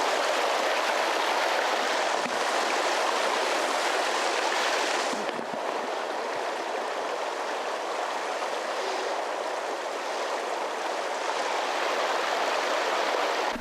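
The Yuba River in the Sierra foothills rushes steadily and loudly, a continuous broadband roar of flowing water heard up close with no talk.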